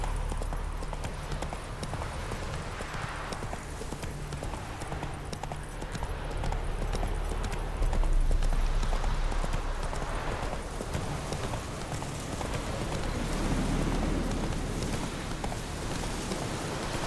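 A horse gallops in The Witcher 3 video game, a continuous rapid clip-clop of hooves over steady rain-like ambience, moderately loud and close.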